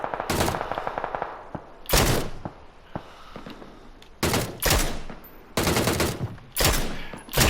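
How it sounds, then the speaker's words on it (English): PUBG training-mode gunfire comes in loud, close bursts of automatic fire, each lasting about half a second, separated by brief gaps with scattered single shots between them. "you can actually just shoot at other people like that and get used to the gun"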